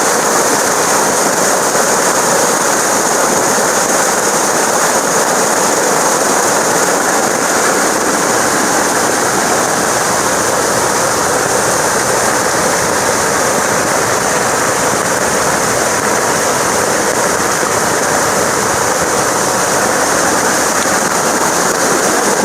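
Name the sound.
swollen river water rushing after continuous rain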